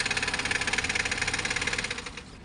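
Vehicle engine that sucked in water, running with a fast rhythmic pulsing knock at close range, steady for about two seconds before the beat loosens and fades slightly at the end.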